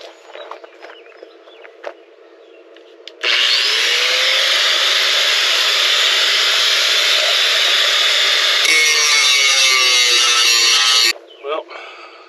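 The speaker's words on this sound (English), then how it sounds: "got another grinder." An angle grinder runs loud and close for about eight seconds during a Hydro Shield install, a continuous high whine that roughens as it bites into the work near the end, with faint tapping before and after.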